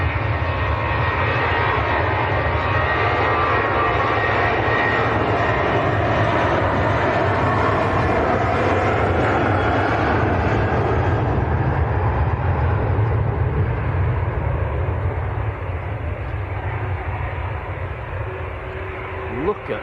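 A Ryanair airliner's engines roar steadily at Manchester Airport, a loud continuous rumble that holds for the whole stretch, swelling slightly then easing away toward the end.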